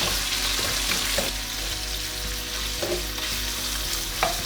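Lamb chunks frying in a pan, a continuous close sizzle with occasional light scrapes and taps of a utensil, steady level, no one talking.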